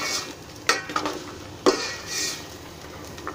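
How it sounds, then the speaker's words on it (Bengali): Vegetables with cauliflower being stirred and lightly fried in ghee in a pan, heard as a soft sizzle with a few sharp spoon-on-pan clinks and scrapes, close and without talk. "এখন এগুলো নেড়ে চেড়ে একটু ভেজে নিচ্ছি।"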